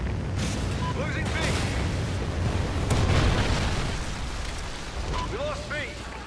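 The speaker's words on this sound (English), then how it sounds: "Friendly Trinity rocket inbound" A Trinity rocket strike in Call of Duty Ghosts unleashes a long, heavy explosive roar with rumbling blasts and crackling debris, swelling around the middle, while game voices and radio chatter sit underneath.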